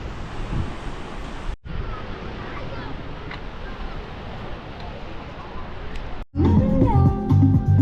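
Surf washes onto a small town beach beside a port in Sardinia, a steady close wash of waves with blustery wind buffeting the microphone, then a sudden louder, busier stretch at the end.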